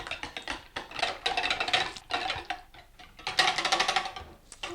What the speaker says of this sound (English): So just whisk this up.